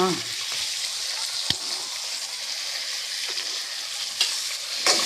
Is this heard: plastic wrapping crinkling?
no